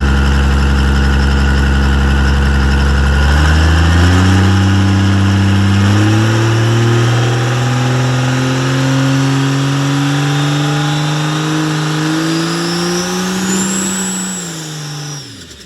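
Turbocharged car engine idling, then revving up in steps with the dump valve switched on, a loud close rising drone that climbs and holds before dropping back, with a faint whistle near the end.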